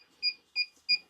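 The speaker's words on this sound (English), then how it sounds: "Hold down the power button until it starts to flash or beep" A DJI FPV RC 2 remote controller beeps three times while linking to an Avata 2 drone, crisp evenly spaced high electronic tones heard close up in a quiet room.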